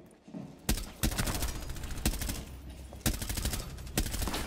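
Gunshots ring out in a video game match, a handful of sharp, loud cracks spaced roughly a second apart over a steady background of game noise.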